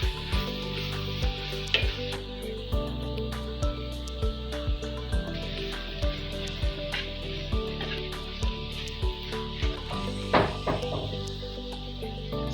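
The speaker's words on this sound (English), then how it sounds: "we are going to give it a stir again" Spiced chicken pie filling is stirred in a pot on the stove, with a spoon scraping and knocking against the metal in a regular rhythm over a low sizzle.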